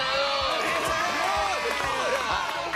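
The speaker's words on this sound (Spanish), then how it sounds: "Un aplauso para el flotador." Studio audience in a Peruvian TV comedy show clapping and cheering loudly, a dense continuous roar with whoops, with a voice talking over it throughout.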